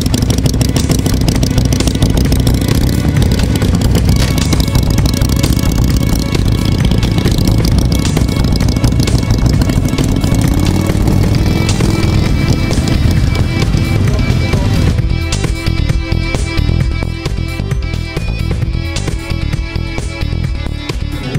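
A Sunbeam S7 motorcycle engine runs loud and close throughout, a dense steady rumble with clattering mechanical texture that shifts in character partway through.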